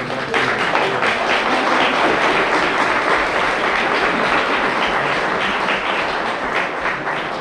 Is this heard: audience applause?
yes